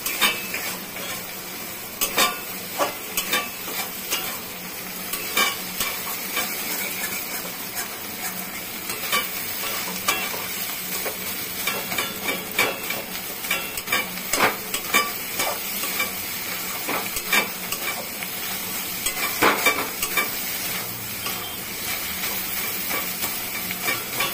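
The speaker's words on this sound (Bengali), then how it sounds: "এখন কাঁকরোল ভর্তাটা হয়ে গেছে, একটু নাড়াচাড়া করে নামিয়ে দিলাম।" Metal spatula stirring and scraping kakrol (teasel gourd) mash in a pan over a soft sizzle, irregular clinks and scrapes repeating steadily throughout, fairly quiet and close.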